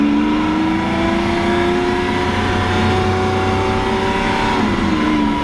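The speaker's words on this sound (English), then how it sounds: "So we're in the Lamborghini Aventador Roadster. This is the Pirelli edition." A Lamborghini Aventador Roadster, Pirelli edition, with its engine note rising steadily under acceleration, a loud, close, continuous drone that climbs in pitch before easing off near the end.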